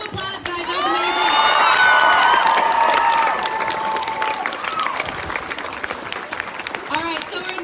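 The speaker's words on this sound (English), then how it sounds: "Let's give her another round of applause" An audience applauds and cheers for a speaker at a student rally, loud clapping with shouts and whoops rising early, then continuing more steadily beneath voices.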